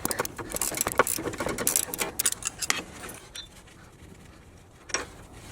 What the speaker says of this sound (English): I switch to a ratcheting wrench and use a 5mm hex bit to counter hold it.